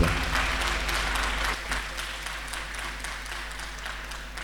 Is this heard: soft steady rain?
no